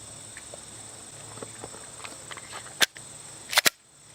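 A pistol firing a silent blank training round and cycling its action, two or three sharp mechanical clacks near the end after a few soft handling clicks, close and loud in an otherwise quiet space.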